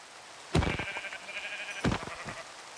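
Sheep bleating in a video game, two loud close bleats about a second apart, with light background noise and no talk.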